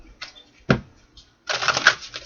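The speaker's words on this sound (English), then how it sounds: "2 more shuffles." Tarot cards are shuffled by hand in a few quick riffling bursts, close and crisp, with short pauses between and no talk.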